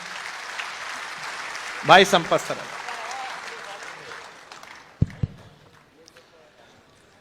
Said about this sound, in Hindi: एक बार अगवानी में जोरदार तालियां बजा दीजिएगा